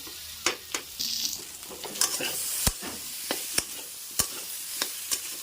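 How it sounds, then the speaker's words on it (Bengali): Potatoes fry in a pan with turmeric, dried chilli and ginger paste. A steady crackling sizzle runs throughout, broken by frequent sharp spatula clicks and scrapes as the potatoes are stirred, all close and prominent. "ভালো করে ভেজে নেবো আলুগুলো"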